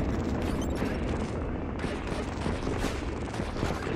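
Missiles launching in the vector missile-command game Utopia Must Fall, a dense, continuous barrage of loud booming and crackling blasts that overlap throughout, with no talk.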